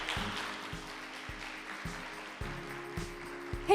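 Applause from an audience at a conference event after a lecture on nuclear fusion, moderate clapping spread across the room and heard from a distance, steady at first, then thinning toward the end.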